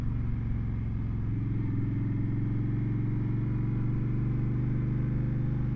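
Honda Fury motorcycle rolling slowly in first gear at parking-lot speed, its engine giving a steady, close, low throbbing rumble throughout with no talk.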